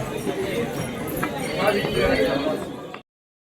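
A worn-out horse plods along the Vaishno Devi pilgrimage path, hooves clip-clopping close by under steady talk from people nearby.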